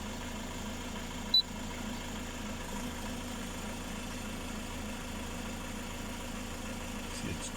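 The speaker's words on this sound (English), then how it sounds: "we've switched the engine on" A steady, low car engine idle hums evenly throughout while charging an inverter system, with one brief click near the start.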